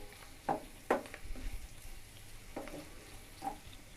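Noodles cook in a pan on a stove over medium heat, giving a soft steady sizzle broken by several sharp bursts of stirring and clattering.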